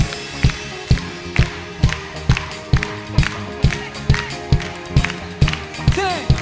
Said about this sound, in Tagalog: Palakpak po ating mga kamay para sa Diyos!